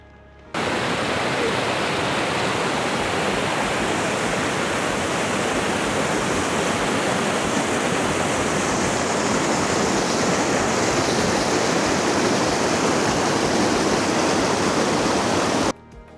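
A waterfall in Plitvice Lakes National Park, Croatia, gives a steady, dense roar of rushing water that holds at an even level for the whole stretch, with no voices.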